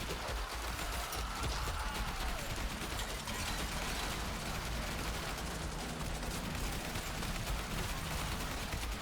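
Assault rifle fire in the zombie survival game Yet Another Zombie Survivors, a steady, dense stream of rapid shots running unbroken for the whole stretch amid a busy wash of game effects.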